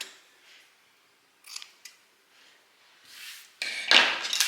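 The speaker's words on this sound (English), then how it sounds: "I'm taking my straps and I'm cutting the excess seam allowance off" Scissors cutting excess seam allowance off sewn fabric straps, several short crisp snips scattered through a quiet room, the last ones louder and closer.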